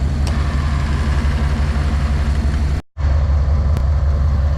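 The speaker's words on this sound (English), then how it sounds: "the compressor is running constantly now, which is a good sign" A car engine idles steadily with its AC compressor running constantly at max while an R134a system is recharged, making a continuous low mechanical hum that cuts out briefly near the end.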